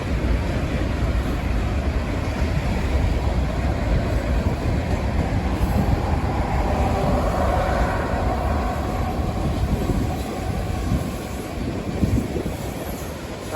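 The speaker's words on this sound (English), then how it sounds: "That train." A long Union Pacific freight train rumbles past steadily at close range in Grand Prairie, Texas, with dense low wheel roar and rail clatter lasting throughout and no talk.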